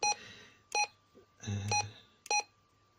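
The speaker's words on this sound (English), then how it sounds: "Roger beep." A series of short electronic roger beeps and tones repeats from a Blueskysea CB-27 CB radio, with brief bursts and a low hum between them, fairly quiet.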